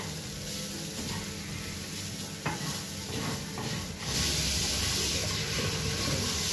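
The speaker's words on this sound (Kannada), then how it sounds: "ಸ್ವಲ್ಪ ಅರಿಶಿಣ ಸೇರಿಸಿ ಒಟ್ಟಾಗಿ ಡ್ರೈ ಫ್ರೈ ಮಾಡಬೇಕು." Grated coconut with turmeric dry roasts in a pan, a steady dry hiss and scraping stir running throughout, with occasional spoon knocks and the sound growing slightly louder toward the end, with no talking.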